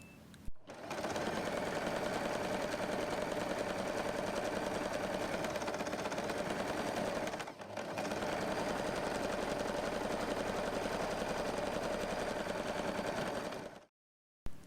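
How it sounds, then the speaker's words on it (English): A sewing machine runs fast and steady as it stitches fabric for a drawstring organizer pouch. It whirs continuously, pauses briefly midway, resumes, then stops near the end. "Take this to the sewing machine and stitch this part."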